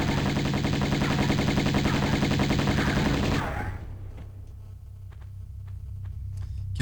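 Enemies hatching from eggs open fire in a remastered Tomb Raider game, a dense loud burst of rapid gunfire for about three seconds that cuts off abruptly into quiet ticking with faint distant shots.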